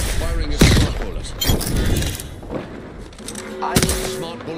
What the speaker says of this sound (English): Firing a smart bullet.